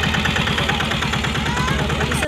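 A boat engine hums steadily with a throbbing, pulsing idle as the boat runs out toward an island, close and continuous for the whole stretch.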